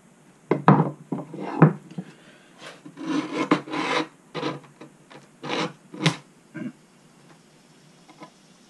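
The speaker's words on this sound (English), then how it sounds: "We are trimming end grain here" Trimming the end grain of a mulberry wood cutting board makes a series of short, raspy cutting bursts, some in quick clusters and others spaced apart, close and fairly loud, with no talking.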